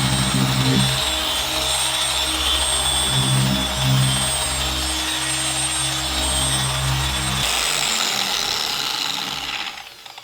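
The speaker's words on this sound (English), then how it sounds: "But this is my torque polisher." Torque polisher spinning on car paint of an Audi Q4, a loud continuous whirring drone with shifting low hum, steady close up, winding down at the end with no talk.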